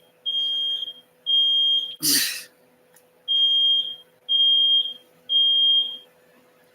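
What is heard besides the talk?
fire alarm beeping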